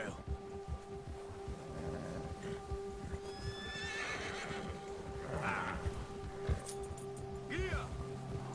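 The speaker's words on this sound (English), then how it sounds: "O cavalo já se assustou com o urso e ele nem tá perto" A horse spooked by a bear in Red Dead Redemption 2 lets out a sharp whinny with hooves clip-clopping over an outdoor ambience, while someone talks over the game sound.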